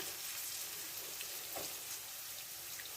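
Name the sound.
fish frying in a pan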